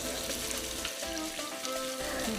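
Banana caramelizing in a pan with rum gives a steady, fairly faint sizzle and bubbling throughout, close by, with no voices.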